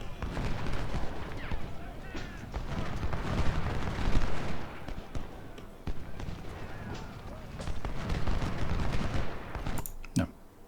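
Rifle gunfire in a video game crackles in dense, repeated shots and bursts, close and loud throughout, ending with a couple of sharp isolated shots.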